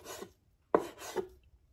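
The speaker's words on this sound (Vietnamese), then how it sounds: "Cắt đã thấy mềm rồi." A knife cuts through tender raw beef in a few brief, quiet rasping strokes separated by short silences.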